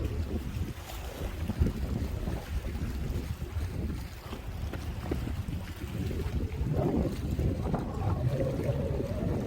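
Strong wind gusts roar steadily across the microphone on a breakwater at Cheongho-dong, with water sloshing beneath, continuous and loud throughout.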